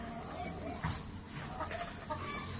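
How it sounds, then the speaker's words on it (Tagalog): Rhode Island hens in a poultry coop cluck softly and intermittently over steady background hiss, with faint bursts scattered through the short stretch. "8 inahin na lang naman itong mga Rhode Islands na to"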